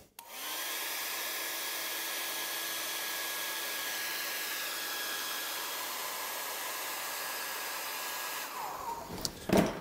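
A hair dryer blows on a watercolor painting, a steady loud whooshing roar with a constant whine that runs for about eight seconds, then winds down and switches off with a few clicks and handling noises.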